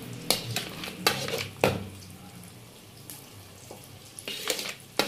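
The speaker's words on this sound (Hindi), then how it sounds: "मीडियम फ्लेम पे अच्छी तरह भून लेंगे।" Semolina being roasted for makhandi halwa in a pan over medium flame, heard as sharp scraping and clanking of a spoon against the pan in irregular strokes, with a soft sizzle underneath.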